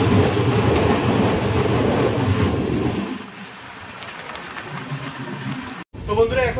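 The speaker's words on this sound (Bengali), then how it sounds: "আমাদের ট্রেন ছেড়ে দিল নিউ মাল জাংশন রেলওয়ে স্টেশন।" The Kanchan Kanya Express pulls out of New Mal Junction station, giving a loud rolling rumble and clatter that drops away partway through to a softer, quieter rattle.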